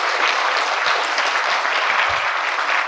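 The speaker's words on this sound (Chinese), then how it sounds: "我们再以热烈的掌声欢迎三位老师。" An indoor audience at a talk on life sciences claps steadily for three arriving speakers, a dense continuous wash of applause, loud and even throughout with no gaps.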